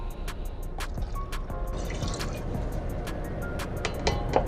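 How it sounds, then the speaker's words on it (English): Water runs into a rice measuring cup filled with rice before it goes into an Instant Pot: a steady splashing pour with gurgling and dripping, close and fairly loud throughout. "I just fill the whole thing up with water."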